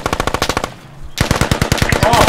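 Rapid automatic machine-gun fire in the video game Squad, two close, loud bursts of evenly spaced shots separated by a brief pause.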